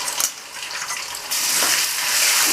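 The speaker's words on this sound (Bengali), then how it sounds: "ভালো করে ভাজা ভাজা করে নিচ্ছি" Ground dried chili, cumin and ginger sizzle steadily in a hot pan, a bright, continuous frying hiss that swells louder partway through, with a few faint stirring scrapes and no talking.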